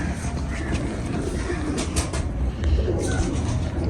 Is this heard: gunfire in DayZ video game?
no